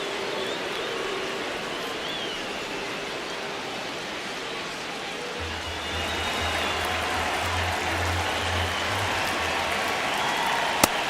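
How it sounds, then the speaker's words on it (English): Home crowd noise from the MLB The Show 26 baseball game, Dodgers against Padres, a steady wash of distant roar and murmur that holds evenly throughout with no single voice standing out. "It's kind of tough to do with this home crowd applying so much pressure"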